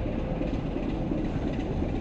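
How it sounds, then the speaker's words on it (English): An old diesel locomotive hauling a steam engine rumbles steadily at a station, a dense low mechanical drone with no voices over it. "we've got an old diesel pulling the engine back"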